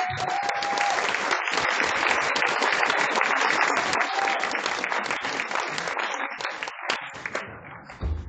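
A crowd keeps clapping following a Christmas song, thick continuous applause at a steady loudness that thins out near the end into a few scattered claps.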